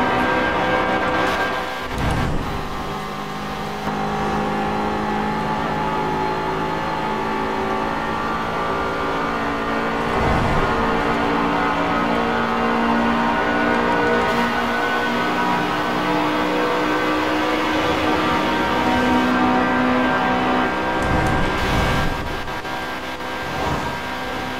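A BMW M5 pushes hard toward top speed on a test drive in India. The engine note runs loud and sustained, broken by a few brief dips that sound like gear changes, and no one speaks over it.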